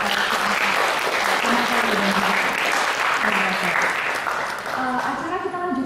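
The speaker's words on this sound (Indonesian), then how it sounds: "Mari kita beri sambutan dan juga tepuk tangan yang paling meriah" An audience applauds steadily at a literary novel discussion event in Indonesia, a dense wash of clapping that holds even across the whole span and is joined by a speaking voice.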